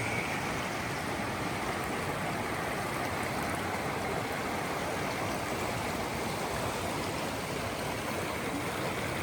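Steady rushing water from a Carpathian mountain stream flows without a break, a dense, even wash of sound close by, with no voices.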